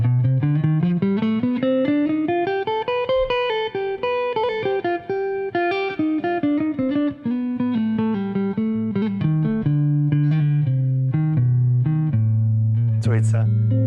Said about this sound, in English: it's the Locrian 9th with the natural 9, and it sounds like this